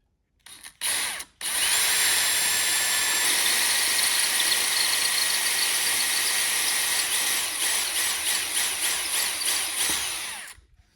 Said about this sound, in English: I'm gonna drill those screw holes where we had them marked